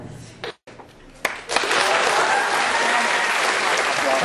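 An audience at a school gala in Žatec bursts into loud, dense applause after a few scattered sounds, the clapping continuing steadily to the end.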